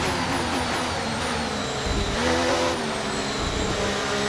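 Formula 1 race cars in a racing video game at the Saudi Arabia circuit launching off the start, several high-pitched engines screaming and rising in pitch together, loud and close, continuous with no talk.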